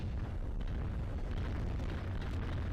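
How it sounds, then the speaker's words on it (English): Artillery shelling in the battlefield strategy game World in Conflict, a continuous heavy rumble of blasts that merge into a loud, unbroken roar with no voices. "That artillery is closing in."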